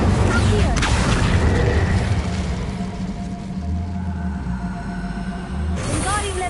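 Incendio fire spell cast in the Hogwarts Legacy video game, a loud roaring whoosh of flame with booming rumble, continuous and heavy throughout, swelling again near the end.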